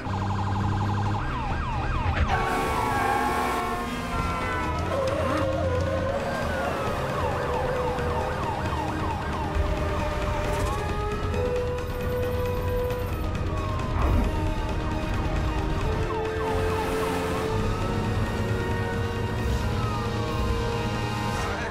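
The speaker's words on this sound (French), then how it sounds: "C'est quoi cette sirène, Danny?" Fire truck siren in an action movie howling in long, sweeping wails, loud and persistent over rumbling traffic and engine noise.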